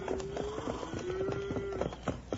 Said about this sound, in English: Ain't that cattle I hear?